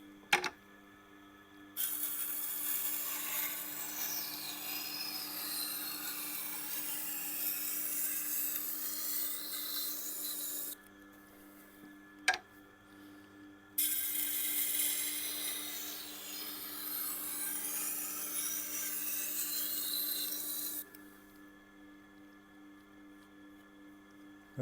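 Knife edge held against a turning Tormek wet grinding wheel, giving a steady motor hum under a continuous gritty grinding hiss in two long passes, with a brief quiet break and a click between them.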